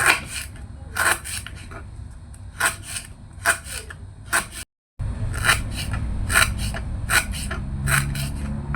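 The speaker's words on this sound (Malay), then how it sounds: "potong kecil serai" Knife chopping a stalk of lemongrass into small pieces on a board, a series of crisp, close cutting strokes in an irregular rhythm, with a brief silent gap midway.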